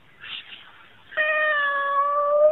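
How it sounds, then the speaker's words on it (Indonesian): A cat gives a short faint sound and then one long, clear, tonal meow held for over a second, close and loud, with no talking over it. "Ada kucing."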